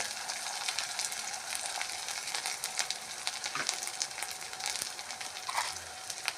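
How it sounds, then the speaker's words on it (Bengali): A spice paste of cumin and turmeric fries in a pan with a steady, close crackling sizzle and occasional soft stirring scrapes, continuous and moderately loud with no voices. "পরিমাণ মতন নুন দিয়ে মশলাটাকে ভালো করে ভেজে নিতে হবে"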